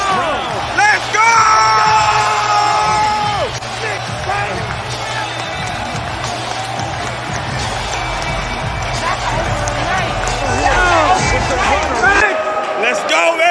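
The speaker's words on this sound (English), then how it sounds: "Listen to this crowd" Home crowd at Madison Square Garden roaring and chanting loudly and continuously during a Knicks double-overtime win over the Celtics, with yells and whoops rising above a dense wall of noise and a voice speaking close over it.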